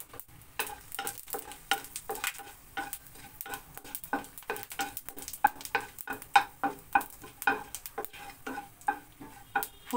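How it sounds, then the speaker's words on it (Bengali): Dried red chilli and panch phoron fry in hot oil in a pan, giving a quiet crackle broken by a steady run of small ticking pops and occasional spoon scrapes, close and wordless. "তেলের মধ্যে একটা শুকনো লঙ্কা দিয়ে দিলাম, একটু পাঁচফোড়ন দিয়ে দিচ্ছি।"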